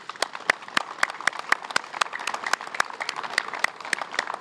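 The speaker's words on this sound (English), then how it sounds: "Big round of applause." Applause at a Law Enforcement Torch Run statehouse celebration for Special Olympics New Hampshire, heard as a thin, fairly rhythmic stream of individual claps from a modest crowd at moderate volume.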